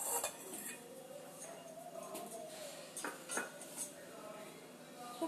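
A spoon stirs spices together with yogurt and mustard oil in a bowl, giving soft scraping and light clinking of metal against the dish, with a few sharper taps, close up and steady over the whole stretch.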